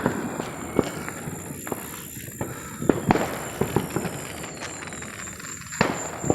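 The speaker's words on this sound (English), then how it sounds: "Got some fireworks here," Fireworks and firecrackers pop and crack in irregular bursts over a low outdoor background on the Fourth of July, some sharp and near, others softer and farther off.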